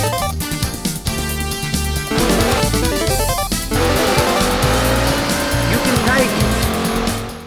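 Race car drifting through corners in Daytona USA on the Sega Saturn, its tires squealing in long, loud screeches over a steady engine drone and upbeat game music.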